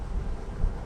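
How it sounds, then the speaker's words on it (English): Wind buffets a microphone outdoors during a Pennsylvania rifle deer hunt, producing a brief, continuous low rumbling roar. "It's pretty windy right now."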